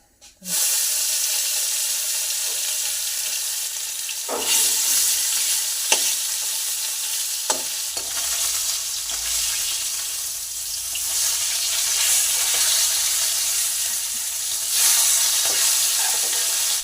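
Fish pieces fry in oil in a pan for an Assamese fish curry, giving a continuous, close sizzle and crackle throughout, with occasional clinks and stirring knocks from the pan.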